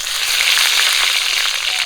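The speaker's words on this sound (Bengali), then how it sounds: "গরম তেলে দিয়ে দেবো পাঁচফোড়ন আর তেজপাতা" Panch phoron and bay leaves dropped into hot mustard oil, a loud, dense sizzle with rapid crackling pops that stays steady and close throughout.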